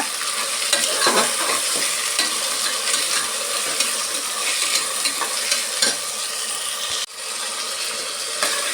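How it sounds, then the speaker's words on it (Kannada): Ingredients frying in hot oil for a fish biryani: a steady, close, loud sizzle with scraping stir sounds throughout and a brief dip near the end. "ಆಯಿಲಲ್ಲಿ ಸ್ವಲ್ಪ ಚೆನ್ನಾಗಿ ಫ್ರೈ ಮಾಡ್ಕೊಂಡ್ರೆ"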